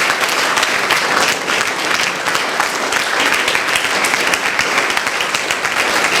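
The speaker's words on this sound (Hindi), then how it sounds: "तालियां जबरदस्त बजा दीजिए" Sustained, vigorous applause from a large audience at an event at a school in Rewari, Haryana, many hands clapping together at an even level throughout.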